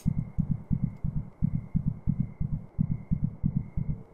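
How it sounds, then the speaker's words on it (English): Heartbeat sound effect in the video game Bigger Than Me: a steady series of deep, muffled double thumps repeats evenly, close and alone over a faint background hum. "Is that the heartbeat?"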